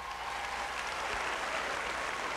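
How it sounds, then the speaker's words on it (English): An audience at the Apollo in New York City applauds in a steady wash of clapping that holds at an even level, heard from some distance. "Ladies and gentlemen, give him a round of applause."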